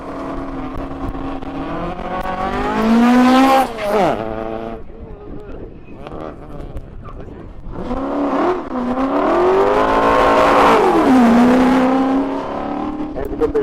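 A supercharged hill-climb car of around 800 horsepower launches with a loud engine roar that rises and falls through the gears. It fades, then surges again, and a voice talks over part of it.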